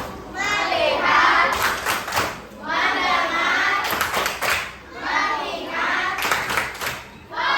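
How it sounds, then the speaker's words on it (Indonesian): Schoolchildren in an elementary classroom do a rhythmic focus clap, chanting short words together between three quick bursts of clapping, with steady group voices filling the gaps. "Tepuk fokus."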